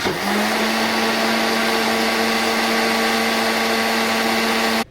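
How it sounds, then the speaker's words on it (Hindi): A mixer grinder blends tamarind chutney, its motor starting with a rising whine and then holding a loud, steady high-pitched drone for nearly five seconds before cutting off abruptly, with no voices. "अब इसे ग्राइंड कर लें अच्छी तरह।"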